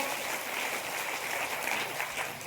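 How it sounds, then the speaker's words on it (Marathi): Audience at a Shiva Mahapuran religious discourse claps together, a dense steady patter of many hands, soft and slightly distant, with a faint voice under it. "टाळी वाजवा बरं तुम्ही तुमच्यासाठी एकदा"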